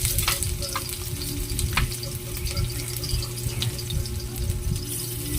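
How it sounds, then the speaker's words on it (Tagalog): Chopped onion sautéing in hot cooking oil in a pan, a steady close sizzle with stirring scrapes and occasional clinks, no voices. "Painitin muna natin ang mantika, tapos igisa natin yung sibuyas"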